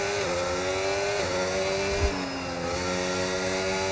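Formula 1 race car engine in the F1 25 game, a loud, sustained high-revving whine with stepped pitch shifts through gear changes and a brief thump midway, no talking.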